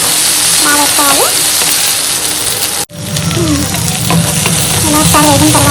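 Onion, dry coconut and ginger-garlic paste frying for chicken curry, a loud close continuous sizzle with constant stirring scrapes, briefly cutting out for a split second midway, with faint voices underneath.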